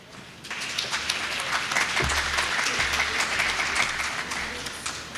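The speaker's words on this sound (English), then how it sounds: "may I ask that side to continue clapping?" Continuous clapping fills the hall at a government imbizo public meeting, a full, sustained round of applause from a large seated crowd, rising slightly and holding steady without speech on top.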